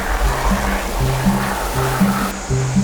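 Water rushes through the draft tube of a hydro plant, a loud, continuous churning broken by repeated low tonal notes.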